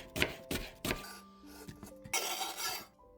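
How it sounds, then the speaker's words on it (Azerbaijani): Knife chopping parsley on a board for a kebab salad, several sharp close knocks in quick succession followed by a softer scraping and clinking, quiet and without talk. "cəfəri doğrayıb qarışdırırıq"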